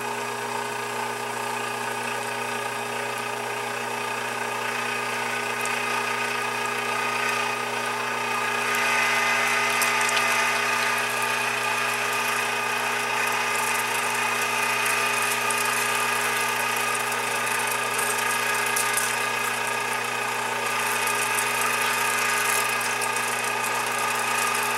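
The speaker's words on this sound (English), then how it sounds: "we're going to run it through this grinder" Meat grinder running steadily as it grinds catfish mixed with bacon for fish burgers, a continuous mechanical whir with a ratcheting hum, close and fairly loud throughout, no talk.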